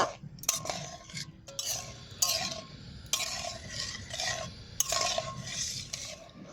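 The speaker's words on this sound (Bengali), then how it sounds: "এবার আমি দুধটাকে ভালো করে মিশিয়ে নেব" Milk being stirred into semolina in a pot, a series of wet scraping strokes and clinks of a spoon against metal in an irregular rhythm, close and clear.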